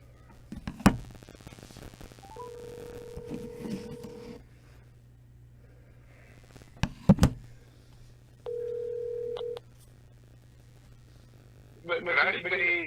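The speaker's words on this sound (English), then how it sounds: "please stand by while we get Mr. Folks back on the phone" During a reconnecting phone call, a steady telephone tone sounds twice, each lasting a second or two, among clicks, handset knocks and bits of muffled talk on a quiet line.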